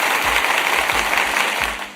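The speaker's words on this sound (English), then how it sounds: "Let me hit him with a nice little round of applause" A round of applause on a livestreamed podcast, a dense, close wash of clapping that holds steady with a few heavy low thumps, then tapers off near the end.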